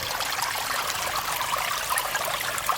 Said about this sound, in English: This is the waterfall system.